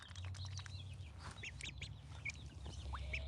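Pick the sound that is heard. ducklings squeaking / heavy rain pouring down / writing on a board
ducklings squeaking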